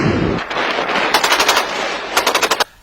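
Rapid bursts of automatic gunfire from Malian soldiers in combat, loud and close, with two distinct rattling volleys over a rough outdoor background and no talking.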